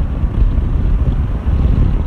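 Steady, loud wind buffeting at the helmet while riding a 2016 Yamaha MT-07 Tracer motorcycle, a continuous low roar with no pauses and no voices.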